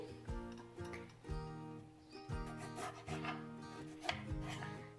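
A knife cutting medium tomatoes into quarters on a board in steady, repeated strokes, each with a soft thud, over a constant low hum.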